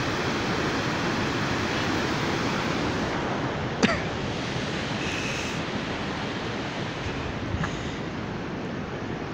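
Fast-flowing river water in Bamberg, Bavaria, during a -13 degree frost, a close, steady broadband rush with no let-up, broken only by a couple of brief faint clicks.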